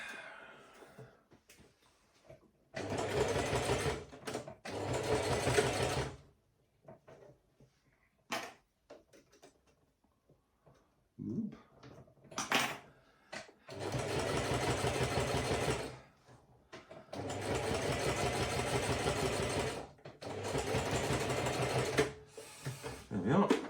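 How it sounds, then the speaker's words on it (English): A sewing machine stitching a folded hat liner runs in several loud sustained bursts of a few seconds each, separated by quiet pauses with small handling clicks. "We're literally folding them over and just sewing it up, and it just gives it a nice finish"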